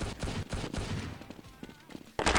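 Gunfire in a Valorant-style mod of the CS 1.6 video game: a busy run of close, sharp shots and bursts over about two seconds, ending in a loud burst, with a voice faintly mixed in.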